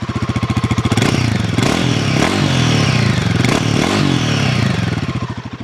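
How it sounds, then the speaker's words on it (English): A Royal Enfield Himalayan single-cylinder motorcycle idles up close at the exhaust, its rapid, even thumping swelling through a couple of blips of the throttle before it settles back to a steady idle. "I'll also go ahead and fire up the bike here so you can see how it sounds"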